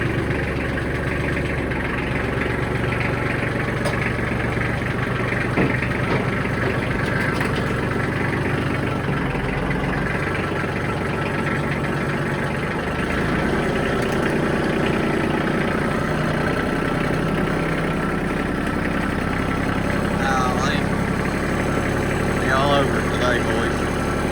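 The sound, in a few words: car engine idling and driving off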